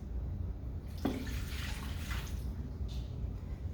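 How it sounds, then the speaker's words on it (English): Warm water, about 90°F and 1.5 cups, pours into a mixer bowl for whole-grain pizza dough, a steady close splashing wash that runs through the whole moment with no talk over it. "we're going to pour in our warm water"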